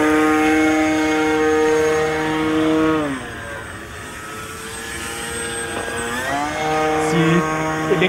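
Buzzing engine and propeller of an RC model flying-wing airplane in flight, a loud steady drone that dips in pitch and volume around the middle as it passes, then rises again.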